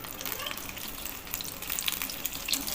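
Onions frying in hot oil in a wok give a steady, close sizzle with a bright crackle, holding even and continuous throughout without any voices.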